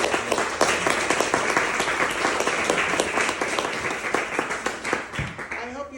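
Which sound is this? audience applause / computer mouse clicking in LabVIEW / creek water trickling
audience applause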